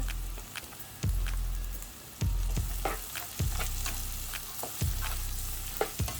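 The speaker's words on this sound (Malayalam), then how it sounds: "ഞാൻ ക്യാപ്സിക്കം ഇട്ടു, ബീൻസും ഇടുന്നുണ്ട്" Capsicum and beans fry in a pan for oats upma with a steady sizzle. Repeated scraping stirs of a spoon cut through it at irregular intervals, all close up.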